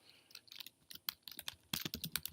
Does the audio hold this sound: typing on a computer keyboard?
yes